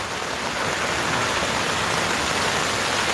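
Steady, loud rain pours down outdoors at a lunchtime live stream from a street sit-in guarding a statue, a dense continuous hiss of drops striking surfaces with no talking.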